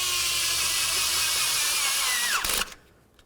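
A power tool whirs steadily while removing a bolt on a 2009-2020 Dodge Journey 3.5L engine, running loud and close for about two and a half seconds before winding down and stopping.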